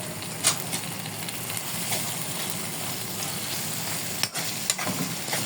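Small squid fry in their own juices in a pan, a constant loud sizzle with a few sharp knocks of a utensil as it is stirred.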